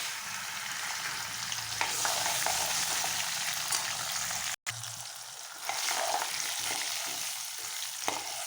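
Chana dal and dried red chillies fry in hot oil for pulihora, a close, continuous crackling sizzle with a brief break midway and occasional stirring scrapes, no talk.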